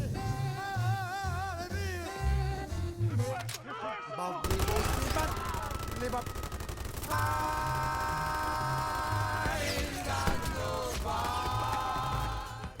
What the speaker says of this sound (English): Exploding compression bullets.